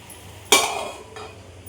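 A plate set on top of a cooking pot of greens as a lid, one sharp clink of the dish against the rim, then a fainter second contact, close and brief.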